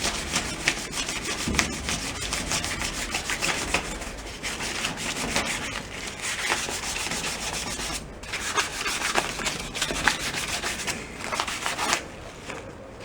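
Sandpaper rubbing steadily over rusty metal and rebar on a Cushman paddy wagon, 80 and 320 grit, in continuous back-and-forth strokes with a few brief pauses, close and fairly loud.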